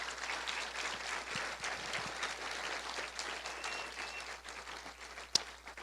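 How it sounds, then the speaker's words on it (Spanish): A church congregation applauds with sustained, dense clapping that fills the space for several seconds, gradually thinning toward the end. "Denle un fuerte aplauso a Dios por eso."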